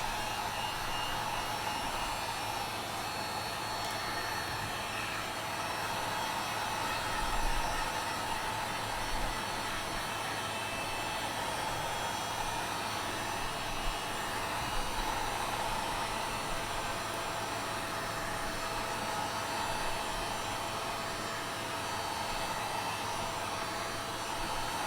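A hot-air tool blows steadily on an iPhone 12 screen to soften it for replacement, a continuous broadband whooshing hiss with a low hum, unbroken and close for the whole stretch.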